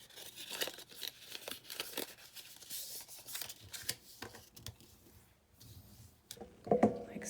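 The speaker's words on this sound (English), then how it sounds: "So let's fold on that first line." Scored paper is folded along its lines to make a tea-party mini album. The paper gives off soft, close crinkling, creasing and rustling sounds in uneven bursts, with a sharper crackle near the end.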